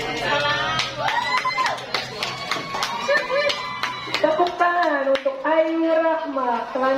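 An audience claps for a student poetry reader at a school Bulan Bahasa poetry recitation contest. Scattered, uneven claps mix with a voice talking, then the speech carries on alone.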